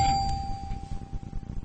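A doorbell gives a single bright metallic ding that rings out and slowly fades, heard alone over a faint low rumble.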